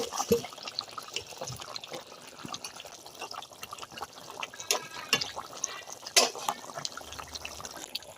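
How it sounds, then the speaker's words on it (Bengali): Fish pieces drop into a simmering potato and cauliflower curry, giving wet splashes, drips and bubbling liquid with scattered soft knocks, close and moderately quiet. "এবার আমি মাছ দিয়ে দেব।"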